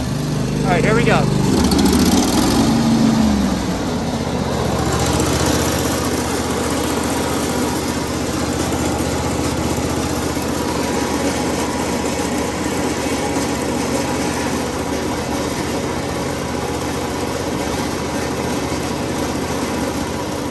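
A Wright mower's cutter deck spins up with failing spindle bearings: a brief clunk and rising whine at the start, then a long, loud, steady engine and blade drone with a gritty mechanical undertone.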